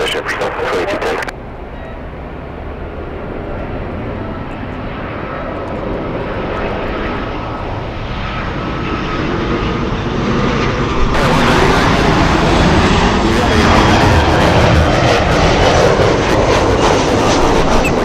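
Loud, steady roar of Southwest airliner jet engines at LAX, building and swelling as the plane powers up, with a brighter hissing surge near the end; a voice talks over it.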